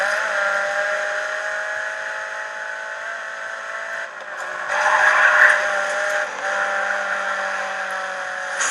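Race cars in the driving video game GRID 2, a sustained engine whine with shifting pitch and a louder burst of tire skid near the middle, no talk.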